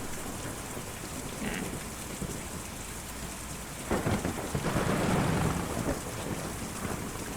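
Rain falls steadily in the video game Kentucky Route Zero, with rolling thunder. Continuous patter runs throughout, and a loud thunder rumble swells midway and then eases back into the rain.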